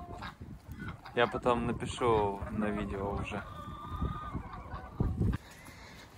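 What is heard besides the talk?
geese honking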